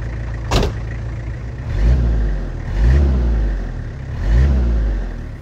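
A naturally aspirated 2.4 liter diesel car engine from the 1990s is revved three times over a steady idle, each rev rising and falling in a smooth swell, close and fairly loud, with a brief sharp knock near the start.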